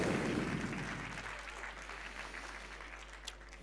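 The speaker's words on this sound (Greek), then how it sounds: "Παρακαλώ παλαμάκια για το πάνελ μας." Audience at a shipping industry forum applauds a panel, with dense clapping loudest at the start that fades to a lighter patter over a few seconds.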